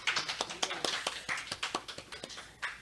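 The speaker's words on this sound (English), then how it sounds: "let's give another round of applause for Doug and Tina" Light, quiet applause from a small gathered audience, individual claps loosely spaced and uneven, sounding somewhat distant.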